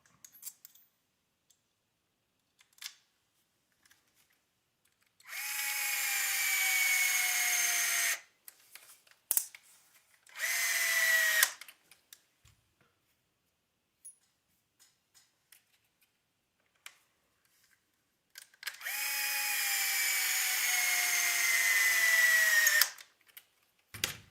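A power drill drives bolts into the front clip of an SBX-1 kit, with three separate high-pitched whirring runs, the longer ones lasting several seconds, and quiet clicks and handling noises between them.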